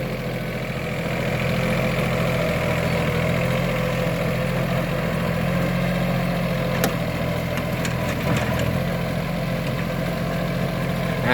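A Yanmar KE4 two-wheel tractor with a rotary tiller works soft soil near Korat, its engine a steady, loud low drone with a mechanical hum that runs throughout, broken only by a few faint clicks.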